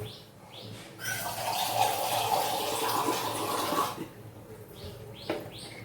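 Water pours steadily into a pot of chicken soup for about three seconds, about half a tumbler, a splashing rush that then stops, leaving quiet room sounds and faint chirps.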